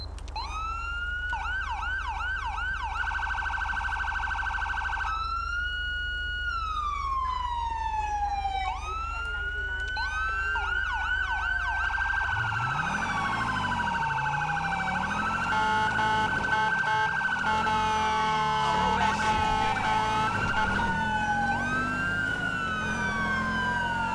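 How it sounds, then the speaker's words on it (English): A police car siren in GTA V modded with LSPDFR wails continuously and loudly, cycling through rising and falling tones, then shifting to faster yelping and warbling patterns with rumbling underneath. "you can see that the Siren's already here"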